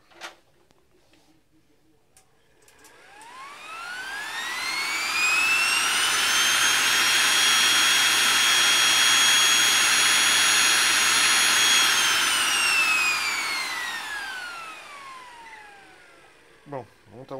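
A single fan blade spun up on a compressor-driven direct thrust test rig, whining up in pitch, holding a steady loud high tone for several seconds, then winding back down, close by with no talk.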